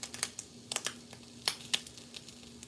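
Grease pops and spits in a pan while breakfast cooks, a close run of sharp, irregular crackles and snaps over a low steady hum, with no talking.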